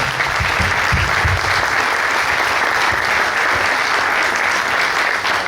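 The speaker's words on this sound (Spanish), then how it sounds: "Un fuerte aplauso para vosotros." Steady, loud applause from a gathered audience, a thick continuous wash of many hands clapping with no break and little else audible.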